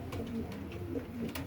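Pigeons cooing nearby in a loft, with several soft low repeated coos in a gentle rhythm and faint rustling, moderately quiet, with no talking.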